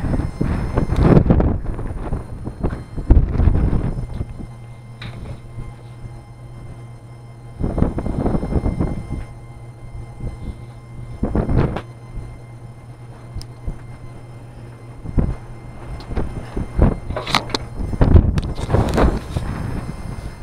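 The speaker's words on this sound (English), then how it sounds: "Just too windy, you gotta wait a minute." Strong, cold high-desert wind with falling snow roars and buffets the microphone in repeated heavy gusts, with rumbling between them.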